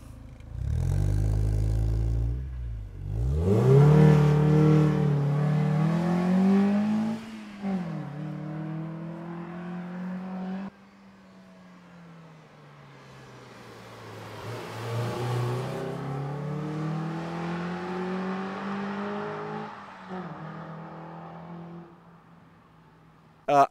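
A car with an aftermarket exhaust revs loudly nearby, its engine note climbing and falling through several long throttle sweeps, then settling into a lower idle before rising again in a slower rev.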